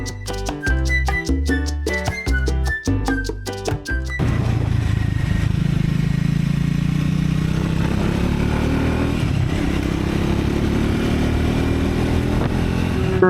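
A Triumph Scrambler 400X single-cylinder motorcycle on the move, its loud, steady engine drone slowly climbing in pitch, preceded by about four seconds of rhythmic music.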